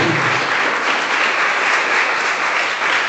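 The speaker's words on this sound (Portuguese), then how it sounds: "Vamos aplaudir o nosso Deus." Loud, steady applause fills a church service throughout, a dense wash of clapping from the congregation with no talk over it.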